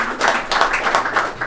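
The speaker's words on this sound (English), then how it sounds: "That's a pretty tepid applause." Scattered, modest clapping from a town hall audience in Nashua, New Hampshire, a brief uneven patter of a few hands, fairly close and clear.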